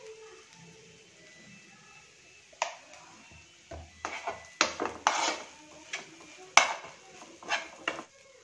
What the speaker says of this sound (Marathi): आणि हे व्यवस्थित मिक्स करून घ्यायचे।